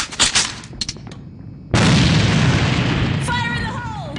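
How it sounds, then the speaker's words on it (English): A grenade blast in a sniper shooter video game: a heavy boom that cuts in midway and rolls on with a long noisy rumble, loud and close, after a few earlier sharp game sounds. "Бросаю гранату!"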